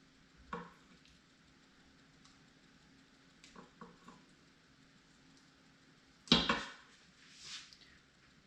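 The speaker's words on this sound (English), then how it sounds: "I'm going to go ahead and stir this up again" A spoon stirs cauliflower rice with beef, mushrooms and onions in a pot, giving a few scattered scraping, clattering stirs, one louder scrape near the end, over a faint low sizzle.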